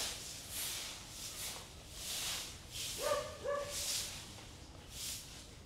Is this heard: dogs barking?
yes